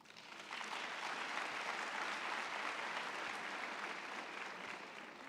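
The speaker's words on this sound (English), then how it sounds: "please give them a huge round of applause" Audience applause at a university graduation ceremony in Bloemfontein, a steady, dense wash of many hands clapping that rises quickly and holds loud throughout, with no talk.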